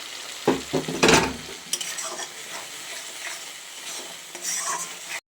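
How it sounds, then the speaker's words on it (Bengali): A spice paste of tomato, ground cashew and poppy seed is stirred and fried in a pan, with scraping strokes and a soft sizzle, loud near the start and then steady through the end. "কাজু বাদাম পেস্ট করা আছে, পোস্ত দিয়ে দিলাম মশলাটাকে। এবারে ভালো করে কষিয়ে নেব।"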